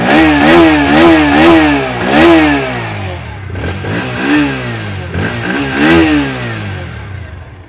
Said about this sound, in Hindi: आइडियल कंडीशन पर इंजन साउंड, एग्जॉस्ट नोट।